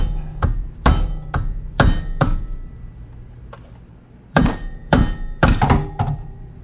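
Stuck spring-loaded clutch on a 2007 Can-Am Renegade 800 ATV being knocked loose with a hammer: about a dozen sharp, close metallic thunks in uneven bursts, some spaced and some quick together, with no voices.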